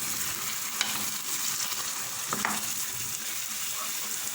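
Ground ginger and garlic paste fries in a pan with an even, moderate sizzle, a spoon scraping through it now and then, no voices.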